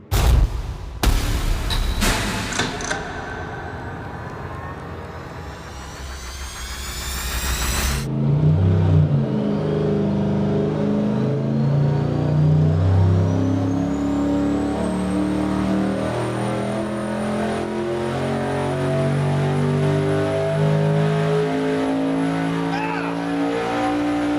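A 1,500-horsepower stock junkyard short block engine roars loudly at full throttle on a dyno, rising steadily through the pull as a sustained, rough mechanical howl with people talking over it.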